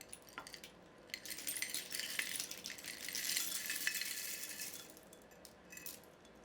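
Small glass buttons clink and rattle together inside a jar, a busy run of bright, light chinks and jostling clatter that swells in the middle and then settles, close and alone with no talk.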